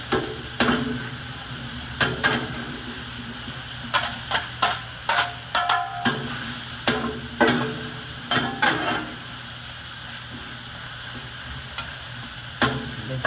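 Chicken for grilled chicken tinola with potatoes sizzles steadily over the heat, broken by a series of sharp, irregular utensil taps and scrapes, with no one talking.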